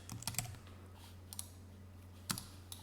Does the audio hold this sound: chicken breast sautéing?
no